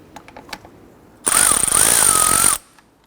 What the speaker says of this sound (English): Using a 10mm socket, we're going to loosen the nut on the ground terminal.